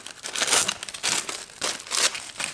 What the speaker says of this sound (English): Unwrap this one.